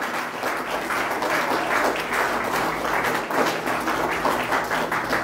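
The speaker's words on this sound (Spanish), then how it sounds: "¿Por qué no damos un aplauso fuerte al Señor Jesucristo?" A church congregation at a Spanish-language service claps loudly and continuously, a thick, steady wash of applause with no pauses from start to finish.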